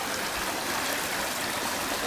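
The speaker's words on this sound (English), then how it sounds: "all kinds of sand and gravel that is coming down with this immense water flow." Rushing water pours continuously through a drainage channel in Burlington, carrying sand and gravel, a dense broadband roar of heavy flow with no pauses and no voices.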